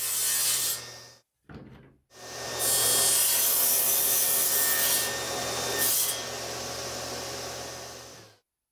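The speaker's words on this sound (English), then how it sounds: "I'm going to have to grind a little bit away on my belt sander" A belt sander grinds away plywood in loud, sustained bursts, with a brief pause and short stop-start near the beginning before a long continuous run.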